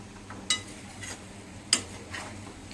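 A spatula stirs potato vegetable in a kadhai (wok), giving two sharp metallic clinks about a second apart over a faint, quiet background sizzle.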